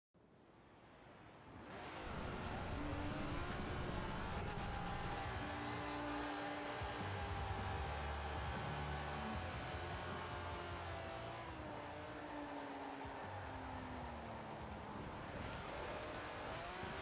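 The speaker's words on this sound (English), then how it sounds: "Almost sounds a little bit Ferrari. But I don't remember Ferrari making a 3 liter dual supercharged V12." A 3-liter dual supercharged V12 in a Forza racing game, a continuous engine drone with rising and falling harmonics as it revs and holds, steady and fairly loud throughout with no talking.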